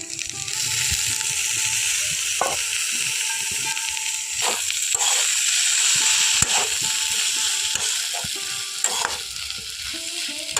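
Gima shak greens frying in a pan give a steady, bright sizzle with scattered crackles and occasional stirring scrapes, close and continuous throughout.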